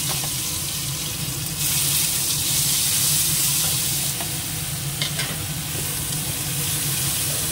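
Ginger paste and garlic paste frying with masala in a hot pan, giving a steady, loud sizzle with occasional scraping stirs throughout and no voices.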